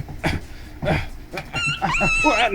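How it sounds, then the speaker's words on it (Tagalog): A dog yelps in short, high whimpering cries that rise and waver after being stepped on in the dark, with a voice talking nearby. "Nakaapak ako ng aso, nakaapak ako."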